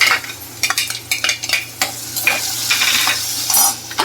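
Potatoes are stirred into a hot tempering of cumin, curry leaves, turmeric and asafoetida. Loud, irregular scraping and clattering of a spoon against the pan runs over a steady sizzle.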